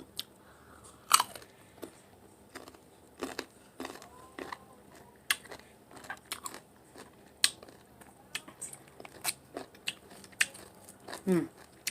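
Crunchy dried mango bitten and chewed close up, a series of sharp crisp crunches scattered irregularly over several seconds, some louder snaps standing out, with faint background noise.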